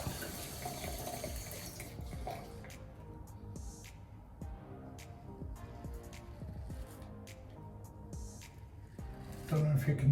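Running tap water flows steadily into a sink while a Schick Hydro razor blade is rinsed, a continuous splashing stream with brief interruptions and a louder gush at the end, with someone speaking over it.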